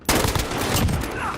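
Sniper gunshot in the Minecraft video game: a sudden loud crack followed by a sustained roaring, crackling burst that stays loud for over a second.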